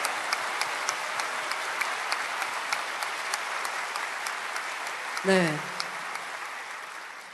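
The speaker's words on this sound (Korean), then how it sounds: "하나님께 감사와 영광의 박수" Audience applause at a church summer retreat service, a dense steady clapping that fills the hall, then a single voice speaks briefly near the end as the clapping fades.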